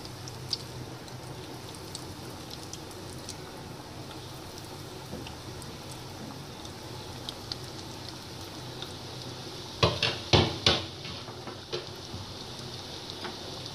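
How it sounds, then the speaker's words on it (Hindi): Egg-and-breadcrumb-coated chicken nuggets frying on low heat, a constant gentle crackling sizzle with a short cluster of louder spatters and pops near the end, close, no one speaking. "अंडा और ब्रेड क्रम्ब लगा के अब हम फ्राई करेंगे। हल्की आंच पे फ्राई करेंगे।"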